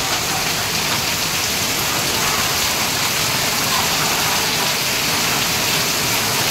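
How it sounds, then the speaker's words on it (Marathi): Heavy monsoon rain pours down in Mumbai in a dense, steady roar, loud and close, with no breaks and no voices. "मंडळी केवढा जोरात पाऊस आला, केवढी मोठी सर आली बघा."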